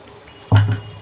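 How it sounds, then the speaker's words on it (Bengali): Spice-rinse water hits a hot cooking pan in a single sudden splash and sizzle halfway through, following a quiet stretch, then fades out over about half a second. "শুধু এই মশলা ধোয়া জলটাই আমি দিয়ে দেবো"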